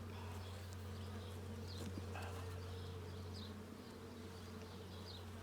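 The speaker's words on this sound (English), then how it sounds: "You got a bee under your thumb." Honey bees buzz steadily around an open package hive during an eight-week inspection, a low continuous hum close by with faint higher wing whines drifting over it, no voices.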